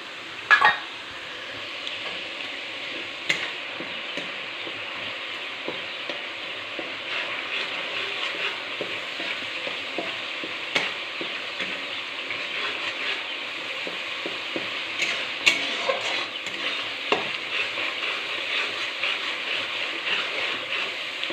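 An onion, ginger and garlic mixture sautés in a pan, a steady bright sizzle running the whole time, broken by occasional clinks and scrapes of a stirring spoon, close and moderately loud with no talking.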